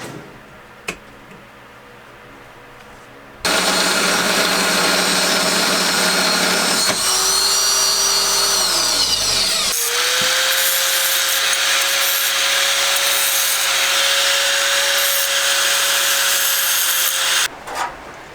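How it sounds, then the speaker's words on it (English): A power tool notches a bent 90-degree tube in a garage: a loud, continuous grinding and cutting noise starts abruptly, its pitch sags and then holds steady when the motor restarts, and it cuts off near the end. "I'm going to just notch it really quick and tack it in place"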